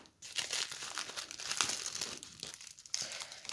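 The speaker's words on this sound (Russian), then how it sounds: "Так, дальше вот такой пакетик. Открываем аккуратно." A small plastic packet from a parcel being carefully opened, with close crinkling and rustling of thin plastic in irregular bursts, a brief tearing sound, and no talk.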